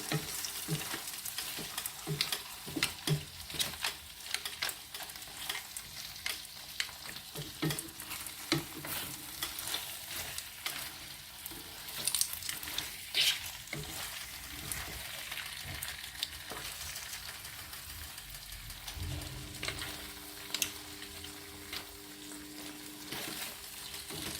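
Spanish paella sizzles and fries steadily in a pan, a dense continuous crackle with occasional stirring scrapes, close and even throughout.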